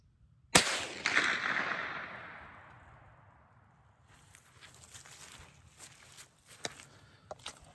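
One sharp, unsuppressed crack from a Savage Mark II .22 Long Rifle rings out up close, its echo fading over a couple of seconds before faint handling clicks and rustling follow.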